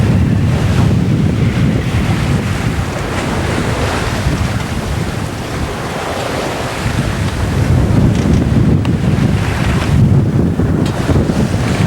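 Wind rushes and waves wash against a sailing boat at sea heading into the wind, a loud, broad roar with gusting surges and heavy microphone buffeting throughout.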